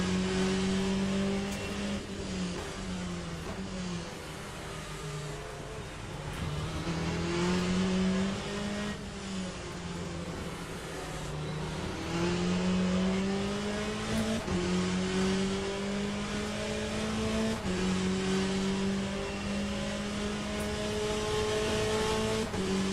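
Race car engines in the sim racing game Le Mans Ultimate, a steady loud drone of revving motors rising and falling in pitch as cars accelerate and shift, continuous throughout with faint tire noise.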